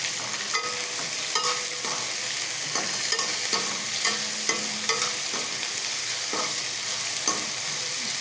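Onion, carrots and beans being stir-fried in a pan for egg fried rice, with a steady sizzle under repeated scraping and tapping strokes of a spatula, close and fairly loud, no talk.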